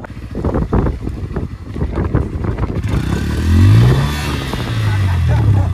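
A new KTM motorcycle revs on sandy Dahanu beach, with the engine sputtering and then rising into a loud sustained roar, while wind buffets the microphone throughout.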